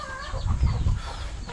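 Chickens on a farm clucking close by, a short burst of several overlapping clucks and chatter with a low rustling background.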